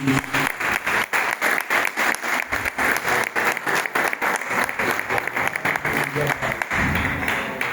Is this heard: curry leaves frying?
no